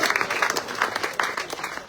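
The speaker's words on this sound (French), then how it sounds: "On applaudit bien fort les policiers" An audience at a political campaign event for a list of candidates applauds police officers, with steady, dense clapping from a close crowd filling the moment and a few louder claps standing out.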